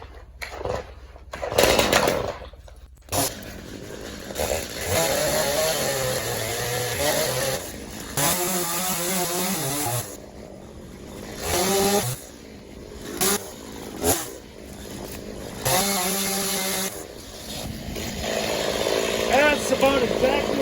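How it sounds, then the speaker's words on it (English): Chainsaw with an unchanged chain starting up in a backyard with an oak tree, sputtering through pulls, then running and revving loudly in surges near by, with someone talking between the bursts. "Now, my saw starts."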